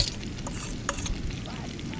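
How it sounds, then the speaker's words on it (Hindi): Chicken pieces frying in a pan of oil outdoors by a river, crackling and sizzling at low volume, with a few sharper pops and the scrape of stirring. "ऐसे फ्राई होने देगा"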